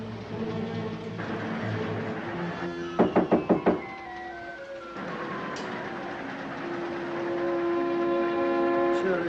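A quick series of five sharp knocks strikes a door aboard a moving passenger train in a 1946 mystery film, loud and close over a steady rail rumble with tonal train sounds around it.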